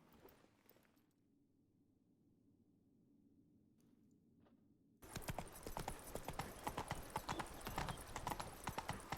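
In The Witcher 3, a horse's hooves clip-clop in a quick, steady rhythm that starts after a quiet opening and then continues loud and close to the end.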